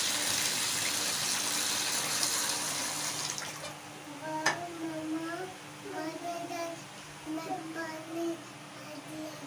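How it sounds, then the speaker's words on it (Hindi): Water gushes and splashes from a freshly bored home water supply, a steady broadband rush with a sharp splash midway and running, gurgling flow after. "पानी आ गया है।"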